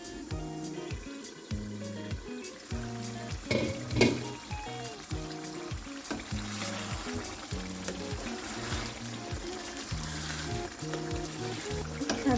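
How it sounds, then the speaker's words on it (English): Egg stew cooking in a pan, a soft continuous sizzle and bubbling with occasional clinks of stirring, fairly quiet and close, no talking. "Stir it a bit, and again we allow it to cook."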